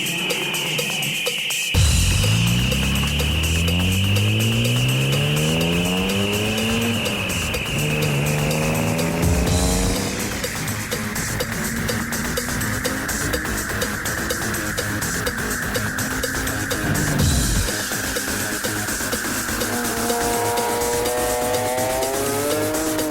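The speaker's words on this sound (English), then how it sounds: "Alan also fitted a Group M exhaust system, which definitely sounds the goods." A modified car with a 500-horsepower setup, wet nitrous kit and Group M exhaust revs hard and accelerates through several gear changes, the engine note rising and dropping three times, loud and close throughout with no talking.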